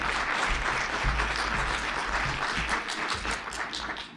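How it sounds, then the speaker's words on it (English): Dense audience applause fills a hall at the BSides Portland 2019 security conference, steady and close-sounding throughout, with no talking over it. "Please give him a round of applause."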